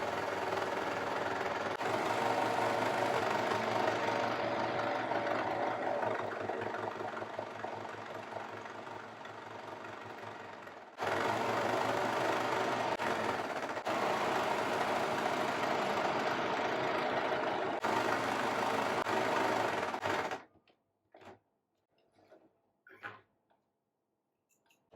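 An electric sewing machine runs in a fast, steady rhythmic whir while stitching lining fabric onto a churidar sleeve, pausing briefly once before resuming, then stopping, followed by a few faint handling clicks.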